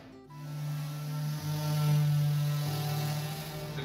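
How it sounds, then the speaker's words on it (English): A handheld battery-operated orbital sander runs steadily at close range, giving a continuous motor hum with a low buzzing tone that holds for several seconds after starting up. "It's not a rotisserie, it's an orbital sander."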